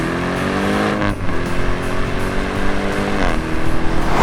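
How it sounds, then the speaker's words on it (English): A Dodge Durango SRT Hellcat launches under launch control, its loud engine roaring up through rising revs with quick upshift breaks, heard close from inside the vehicle. "So, launch control, foot on the brake, foot on the accelerator, and go."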